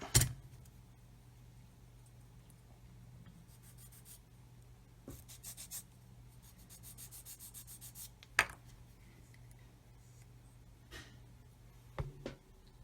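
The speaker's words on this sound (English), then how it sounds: "So, sanding some more off of there." Soft, rhythmic rubbing and scratching of sanding a plastic scale-model part in short bursts, close and quiet, with a low steady hum and a few sharp knocks.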